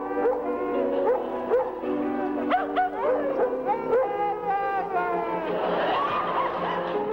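A live dog barks, yips and howls alongside piano in a sonata for piano and dog performed at Carnegie Recital Hall, with sliding howl-like tones and short yelps recurring throughout at close, steady loudness.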